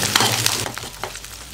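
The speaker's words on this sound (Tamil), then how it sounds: "பூண்டை நல்லா பொன்னிறமாக வர அளவுக்கு வறுத்துக்கலாம்" Garlic dropped into hot oil for poondu thokku, a loud burst of crackling and sizzling spattering that thins out over a moment.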